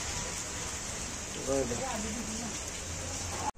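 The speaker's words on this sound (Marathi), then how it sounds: "पाऊस चालू आहे मित्रांनो पुण्यात" Steady rain falling in Pune, a dense continuous patter on surfaces, with a short burst of voice partway through.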